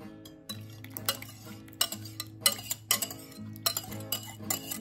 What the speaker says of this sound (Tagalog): Then mix it to these fruits.